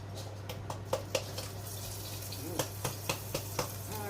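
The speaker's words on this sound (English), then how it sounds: "is frying off the onions" Onions frying in hot oil in a warmed pan, a soft steady sizzle with scattered sharper crackles and pops, fairly faint under a constant low kitchen hum, no talking.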